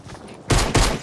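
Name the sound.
gunfire in the video game Fortnite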